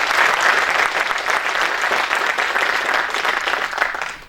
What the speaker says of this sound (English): so give it an applause